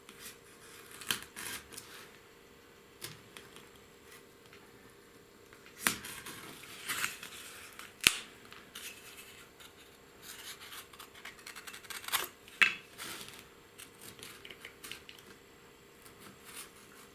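Craft knife cutting through mounting board for a Redwall Abbey model build, with quiet scattered scraping and crunching strokes that come in short bursts over a soft background hiss.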